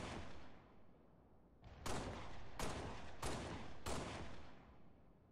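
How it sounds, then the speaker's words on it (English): Gunfire in a video game: a handful of sharp, loud shots crack out at irregular intervals, each with a short decaying tail, over a steady background hiss. "I asked him to shoot to the right of me once"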